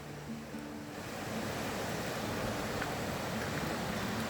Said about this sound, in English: And the River Barrow thundering down.